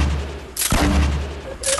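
Two loud, sharp blasts from a grenade launcher in a squad-mode shooter video game, the first about halfway through and the second at the very end, each followed by a rumbling boom over a low background drone.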